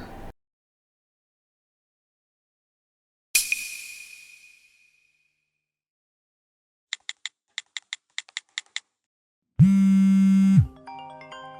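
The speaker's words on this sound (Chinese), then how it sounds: "谁的电话呀？" A phone ringtone chimes indoors at a family wedding gathering, heard as a quick run of repeated bright electronic tones followed by a longer louder ringing burst, after an earlier single fading chime.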